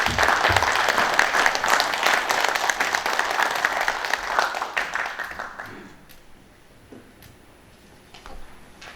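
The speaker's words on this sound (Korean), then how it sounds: "우리 박수로 맞이하겠습니다" An audience at a memorial ceremony for General Paik Sun-yup claps to welcome lawyer Seok Dong-hyun, a former Busan district prosecutor: dense, steady applause for about six seconds that thins and fades to scattered claps and room quiet.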